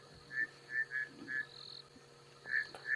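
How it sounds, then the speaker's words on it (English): Bushveld rain frogs call at night during a safari drive. There are about six short, clear chirping calls in an irregular rhythm, fairly close, over a quiet background. "Oh, we can hear some bushveld rain frogs calling now."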